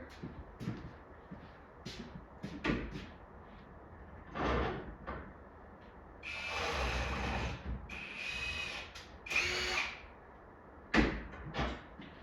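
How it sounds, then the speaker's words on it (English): Power tool, probably a wire wheel, scrubbing the threads of an arcade cabinet bolt during a restoration: several short bursts of grinding whir, the longest mid-clip, between quiet handling clunks, no voices. "Just clean these threads real quick."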